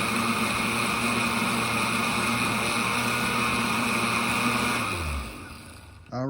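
A blender mixes liposomal vitamin C with sunflower lecithin, a loud steady motor whine that winds down and stops near the end, with no talk over it.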